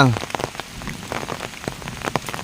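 Steady rain patters on a surface outdoors in the forest, a dense, close hiss with scattered louder drop hits throughout and no voices.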